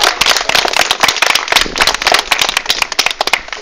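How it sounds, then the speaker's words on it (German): Audience applause for a volunteer at an Advent calendar event, dense sharp clapping throughout, loud and close, with no voices over it. "Aber zuvor gibt es erstmal nochmal einen Applaus für den Thomas Timm als Nachtelfer"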